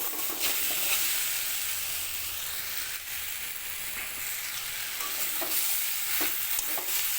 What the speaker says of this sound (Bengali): সব কিছু ভালো করে মিশিয়ে নিচ্ছি গ্যাসের আঁচটাকে আমি মিডিয়াম রেখেছি